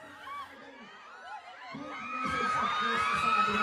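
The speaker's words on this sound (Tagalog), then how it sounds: "Ang hiyawan." A crowd at a public event in Saudi Arabia cheers and shouts, starting as scattered faint voices and swelling into louder, sustained excited screaming in the second half.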